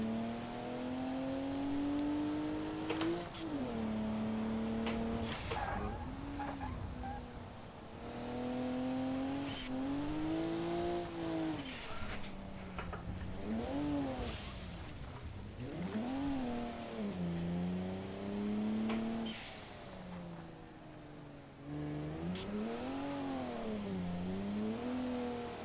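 A car racing along a touge mountain road in a driving video game, its engine revving loud and steady throughout, pitch rising and falling through gear changes and corners, with no talk.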